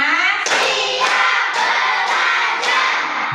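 A classroom of children claps together in a rhythmic ready-to-learn chant, five or six loud group claps in a steady beat, mixed with voices chanting.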